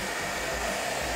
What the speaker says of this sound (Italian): Chiedo il phon, mi arriva il phon.